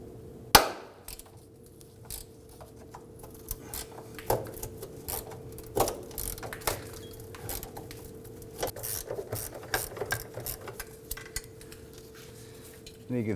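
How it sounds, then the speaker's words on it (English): A 10mm socket on an extension loosens rusty bracket nuts near the fuel tank of a 2005-2009 Subaru Legacy 2.5L H4, giving scattered close metallic clicks and clinks, one sharp knock early on, over a steady low hum with no talking. "Using our 10mm socket and extension."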